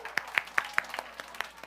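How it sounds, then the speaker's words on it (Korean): Children clapping in bursts during a Sunday church service for young people, about eight sharp separate claps in a loose, uneven rhythm, fairly faint and close, with no talk over them. "와, 박수 한번 칩시다"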